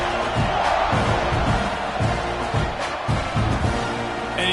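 A football stadium crowd roars at kickoff, a dense, loud, sustained wash of cheering with rhythmic pulses underneath.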